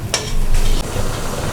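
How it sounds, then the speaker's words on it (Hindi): Beef cooking down in yogurt and turmeric for nihari, with a loud, close sizzle and a sharp utensil scrape near the start, then steady frying noise as it is stirred, with no talking. "अब इसको हम दही में अच्छी तरह भूनेंगे।"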